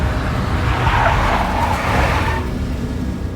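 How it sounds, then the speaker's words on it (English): A big black Mercedes drives in the Max Payne game, a steady loud engine roar with a brief tire-screech quality, close and continuous with no talk. "A big black Mercedes."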